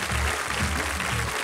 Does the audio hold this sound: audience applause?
yes